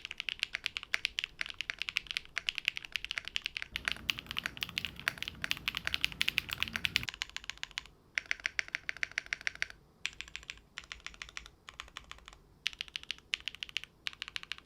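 Fast continuous typing on a fully foamed 65% mechanical keyboard fitted with Crosshair keycaps, close-up clacky keystrokes in a steady flurry, including a stretch of heavier, deeper key presses, with no talking.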